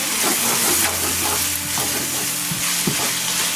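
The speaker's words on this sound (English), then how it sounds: "that will just help the onions whilst they're sweating" Onions with ground pepper sweating in a pan for a lamb bhuna, a steady close sizzle with stirring scrapes throughout, no voices.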